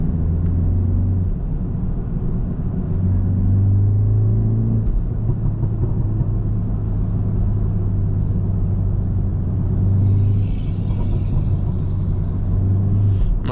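A stage 2 tuned 340 hp BMW 330i four-cylinder engine rumbles steadily and loudly up close while creeping through city traffic, a continuous low drone with no voices.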